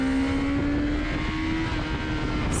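A race car at Le Mans in a racing video game accelerates, its engine a steady, loud drone whose pitch climbs slowly throughout, with no talking.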